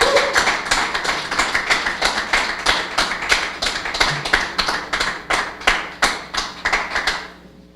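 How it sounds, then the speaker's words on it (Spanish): Church congregation clapping in rhythmic unison, a run of about twenty evenly spaced claps that rise and fade. "démosle un aplauso al Dios vivo."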